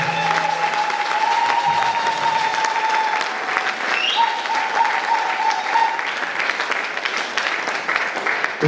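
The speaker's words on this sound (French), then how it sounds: "Acclamons très fort pour le Dieu." A church congregation applauds and cheers loudly and steadily for several seconds, a dense wall of clapping with a sustained tone ringing beneath it.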